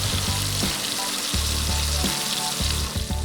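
Risotto rice toasts in a hot pan, a continuous dry sizzle and crackle with low scraping strokes as the grains are stirred, close and fairly loud.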